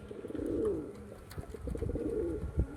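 A pair of pigeons coos close by, two soft throaty rolling coo phrases about a second apart with a small flutter near the end.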